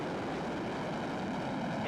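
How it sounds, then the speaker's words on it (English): SpaceX rocket engines ignite and ramp up at launch on a cargo mission to the International Space Station, a loud, steady broadband roar that holds without pause. "there you can see the engine starting to fire, ramping up"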